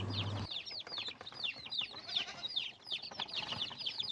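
Native country chicken chicks peep and chirp in a busy, overlapping stream of high calls, with a brief low hum at the start and faint clucks from a hen nearby.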